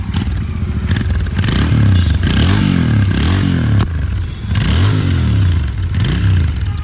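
A Royal Enfield Interceptor 650 on its stock exhaust revs repeatedly, each loud throaty swell rising and falling in a steady rhythm close by, with no one speaking.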